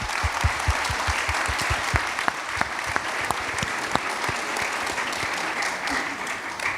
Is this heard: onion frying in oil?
no